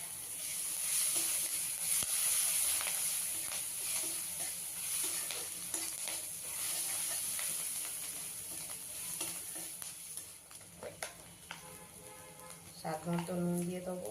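Curry leaves, green chilli and ginger sizzle and crackle in hot oil for bread pakoda, a continuous frying hiss with stirring scrapes, and a voice speaks over it toward the end.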